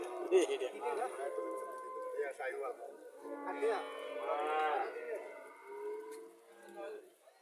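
Golden Haryana breed cow lowing repeatedly, long drawn-out moos near and loud in a farm setting, one call after another with a voice speaking between them.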